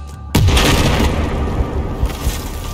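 A sudden loud explosion in the Battlefield 4 video game erupts after a brief quiet moment, followed by a long rumbling, crackling tail of debris and echo.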